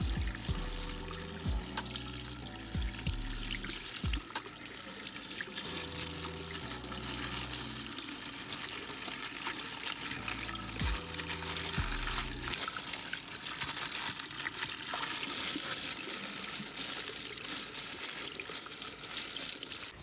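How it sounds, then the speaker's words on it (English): Water splashes and trickles as a tie-dyed face mask is rinsed and squeezed in a sink or basin, with a running, hissing wash and intermittent low sloshing. "I'm just gonna put it in some water and I'm gonna rinse it out"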